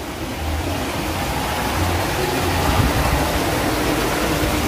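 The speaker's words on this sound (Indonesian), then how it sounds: "di pinggir rumah air mengalir dengan begitu tenangnya" Water runs steadily in a channel beside a house in a village of fish ponds, a continuous close broadband rush with no speech over it.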